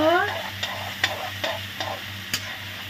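Radish frying with onion, ginger and garlic paste is stirred in a pan, with several distinct spoon knocks and scrapes over a low sizzle.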